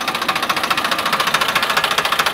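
A Farmtrac 60 tractor engine pulling a sugarcane cultivator chugs loudly with a rapid, even knocking pulse, steady and close throughout.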